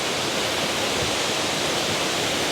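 Balabag Waterfall in Real, Quezon, a tall cascade of about 70 meters, pours in a dense, constant roar of falling water, steady and loud with no voices over it.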